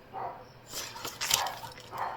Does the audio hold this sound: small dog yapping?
yes